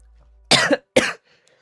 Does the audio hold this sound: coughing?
yes